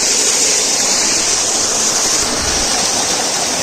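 Water tumbles continuously down a small waterfall at Courtallam, a constant broad roar heard up close, unbroken and without speech.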